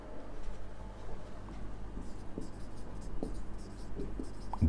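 Pen scratching across paper while writing a heading, soft intermittent strokes over a steady low room hum, close and fairly quiet.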